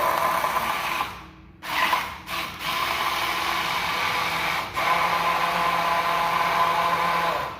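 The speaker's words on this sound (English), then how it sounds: "And we're gonna take our immersion blender" An immersion blender whirs loudly as it purees a sauce of water and other ingredients for a risotto, running steadily with a few short pauses and a brief restart near the beginning.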